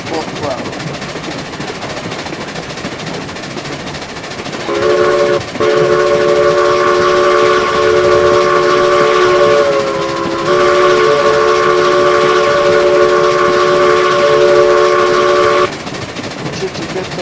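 Steam locomotive at full throttle in the Railroads Online game, a loud sustained multi-tone whistle blowing for about eleven seconds over a steady rumbling background, with a brief dip partway through.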